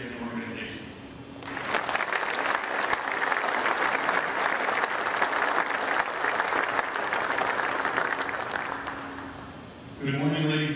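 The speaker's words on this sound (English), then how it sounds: "please join us in a round of applause for the continuing dedicated support from these incredible patriots and organizations." Loud, sustained audience applause at a Marine Corps change of command ceremony, swelling in after a speaker and holding steady for about seven seconds before fading as a voice resumes.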